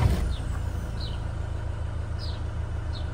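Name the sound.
2010 Land Rover Defender 90 2.4 TDCi starting and idling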